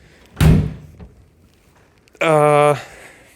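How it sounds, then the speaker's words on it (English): A car door on a 1972 Saab 96 V4 barn find, long left standing, shuts with a single close, solid thunk, followed moments later by a brief voice. "just listen to these doors"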